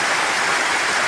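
Heavy rain pours around a house on a hillside in Kidapawan as floodwater rises, a dense and steady hiss of rushing water with no voices.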